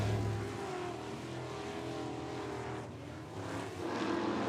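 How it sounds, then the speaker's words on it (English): Off-road race trucks in a TORC championship race roar past the pits in a steady, loud engine wash that swells at the start and end as vehicles pass, with no talk. "all these other trucks come flying by and he's stuck in the pits"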